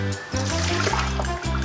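Soaking water being drained from cut potatoes in a kitchen, a soft steady trickle and splashing pour running continuously at close range.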